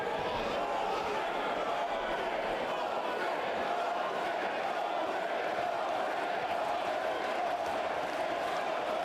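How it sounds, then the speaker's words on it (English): Crowd at a Newcastle bare knuckle boxing event before an undefeated co-main bout, a loud steady roar of cheering voices filling the hall throughout without a break, with no clear speech. "The loudest this Newcastle crowd has been all evening"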